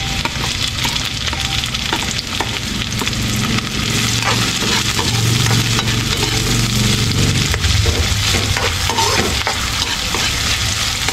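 Garlic and onion frying in a pan, a loud, dense, continuous sizzle with steady crackle close up and no voices.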